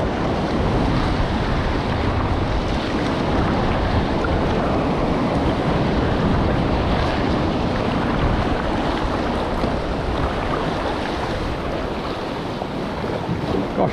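Ocean waves and surf pushing in at high tide near Donut Island off Whangamata, heard from a kayak as a steady, loud broadband wash with wind buffeting the microphone throughout, no voices.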